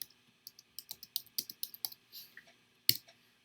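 Keys clatter on a computer keyboard as a search is typed into a browser, a quick irregular run of crisp close clicks ending in one louder keystroke, with no talking.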